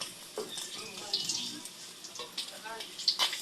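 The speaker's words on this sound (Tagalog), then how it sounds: "Buwis buhay ang pagpaprito ng bangus." Milkfish (bangus) frying in hot oil in a home kitchen, a steady crackling sizzle with sharper pops and spatters rising throughout, fairly close.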